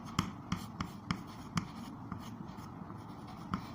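Pen strokes scratch across paper while working a school geometry problem on supplementary angles, a series of short, close, fairly quiet taps and scrapes spaced irregularly, with no voices.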